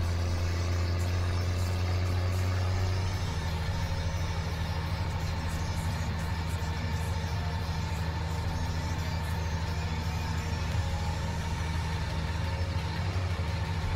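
A tractor engine in the Farming Simulator video game drones steadily at idle, a deep continuous rumble that shifts slightly in tone early on and then holds even and loud throughout, with no voices.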